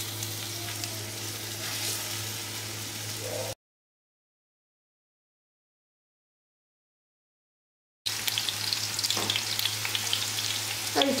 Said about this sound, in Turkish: Yağ iyice ısındıktan sonra karnabaharları içine bırakıyorum.